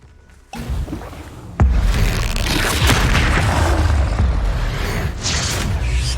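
The Bombarda explosion spell in the video game Hogwarts Legacy: a faint whoosh and a sharp crack, then a loud deep boom that rumbles on, with lighter debris and magical swishes trailing after.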